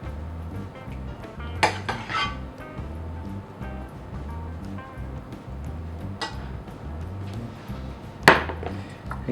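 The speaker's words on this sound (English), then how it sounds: "we simply spoon the chili over the pasta" Chili being spooned over al dente pasta on a plate, soft wet dollops and a few ringing clinks of spoon on china over faint room noise, no talking.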